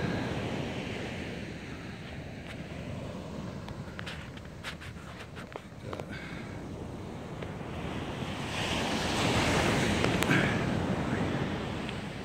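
Ocean surf rolls steadily onto a Florida beach, a broad continuous wash with wind buffeting the microphone, swelling louder toward the end, with a few faint clicks and no voices.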